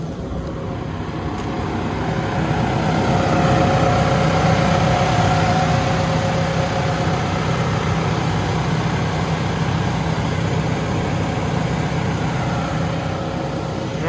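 A steady engine idles at a constant low rumble, running evenly throughout without revving or pauses.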